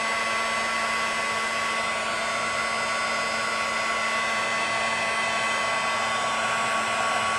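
A heat embossing tool blows hot air onto painter's tape, a steady, loud, continuous whooshing hum with a faint high whine that holds unchanged the whole time, with no talking.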